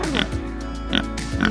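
A big pig on a country farm gives three short, close, grunting oinks at an even pace over a steady low background hum.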